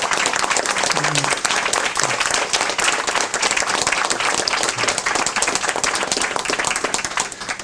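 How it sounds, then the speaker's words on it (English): Seminar audience applause, sustained dense clapping from a crowd lasting several seconds, with a few faint voices under it. "And you need the applause also."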